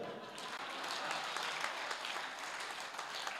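An audience at a Hindi comedy poetry gathering claps loudly and steadily, a dense sustained wash of applause that fills the space for several seconds with no speech over it.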